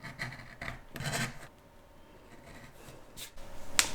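Fabric half square triangles for a quilt being cut and trimmed down to 1.5 inch, quiet rasping, rubbing strokes in short bursts, close and soft.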